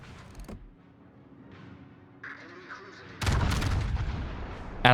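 World of Warships battleship firing armor-piercing shells: a quiet stretch of game ambience, then a loud, booming broadside blast that keeps rumbling, with another heavy hit right at the end.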